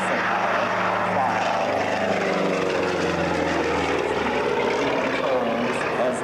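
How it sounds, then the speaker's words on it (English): A B-17 four-engine propeller bomber passes overhead at an airshow, its heavy engine drone loud and continuous with a slowly shifting pitch as it flies by. "Here we see the classic situation of the 8th Air Force, the bombers escorted by the fighters"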